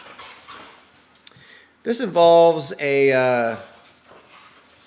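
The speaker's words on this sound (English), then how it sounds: "Do you hear my dogs wrestling in the back of this video?" Dogs wrestling nearby burst into loud whimpering, yipping howls with a brief pause, rising over a man's speech in the background and lasting about two seconds.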